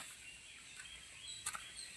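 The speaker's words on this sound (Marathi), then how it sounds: "याच्यात आता तुम्हाला मोराचा वगैरे आवाज येईल बघा, पक्ष्यांचा आवाज." A peacock calls in quiet countryside at dawn, a faint, brief cry from some distance over soft ambient background.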